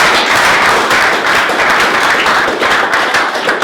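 An audience at a startup and IoT funding event gives a steady round of clapping, dense and close, sustained for several seconds with no speech over it.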